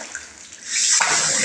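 Water gushing from a newly fitted double-hole hot and cold mixer tap, with a steady hissing rush that swells louder halfway through and then runs on strongly.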